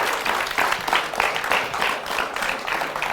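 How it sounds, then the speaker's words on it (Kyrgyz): Audience applause for Asema, a 10-year-old girl poet, on a stage show; a crowd claps steadily in rolling waves, fairly loud and sustained with no talking. "Эң мыкты Асемага кол чабуулар."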